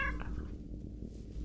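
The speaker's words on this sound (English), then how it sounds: "We got the witch cat!" Close meowing from a witch's black cat in the Minecraft video game, a short, tonal meow at the start, a brief pause, then another meow beginning at the end.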